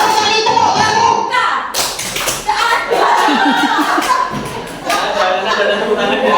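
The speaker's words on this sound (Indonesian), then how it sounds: "Baik, tepuk tangan 3 kali." A group at a training session claps hands in short counted bursts, sharp rhythmic slaps between an instructor's spoken directions and some chuckling.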